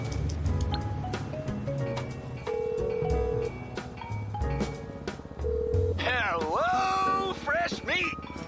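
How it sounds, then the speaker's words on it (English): Dialing a phone call in GTA 5 Online produces a run of short electronic tones and beeps, with sustained tones and a sweeping warble later, played over continuous game sound. "simply pull out your phone and call Dax"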